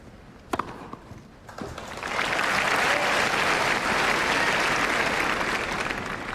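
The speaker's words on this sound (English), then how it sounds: "the crowd that were very silent through the first set are now thoroughly into this" The Wimbledon crowd at a 2003 Karlovic-Hewitt match bursts into loud, sustained applause after a couple of sharp claps, the clapping swelling and holding steady to the end.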